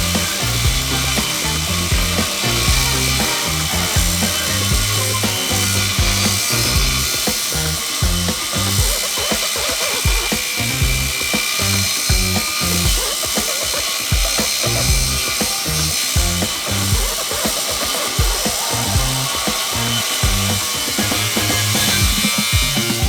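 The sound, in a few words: grinder cutoff wheels cutting half-inch steel, diamond and abrasive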